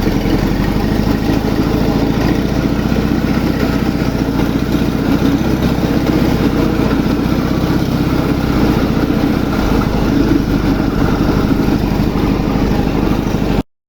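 A SAM garden tractor pulling a tipper trailer drives steadily with a constant, loud mid-pitched engine drone and rattle that continues without pause until a sudden stop at the end.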